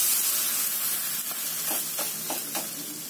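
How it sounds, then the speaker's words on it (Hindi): Keema naan dough brushed with milk laid on a hot plain iron tawa, giving a steady close sizzle with a few soft crackling pops. "अभी गर्म तवे पर ये नान को हम डालेंगे"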